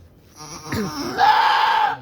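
A goat giving birth bleats nearby, a wavering nasal cry that rises and holds steady, heard on its own without voices.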